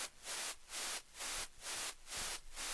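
Sampled white noise from a music production library plays as five or six rhythmic bursts, each a loud broadband hiss that swells and cuts off in a steady pulse, with no other sound.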